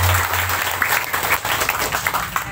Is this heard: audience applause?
yes